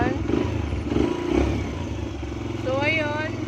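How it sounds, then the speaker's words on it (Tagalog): A Yamaha XTZ motorcycle engine fitted with a new battery and a modified five-wire regulator runs with a steady, close mechanical rumble and clatter, swelling into a rev near the end while someone talks over it. "So, start natin ang motor."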